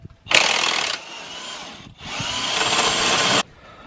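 Power tool removing shock tower bolts on a 1994-2002 Dodge 2500 Cummins truck, two loud close bursts of whirring, rattling impact, the first about a second long and the second longer.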